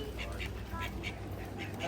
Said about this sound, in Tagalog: Oh, may mga pato-pato pa.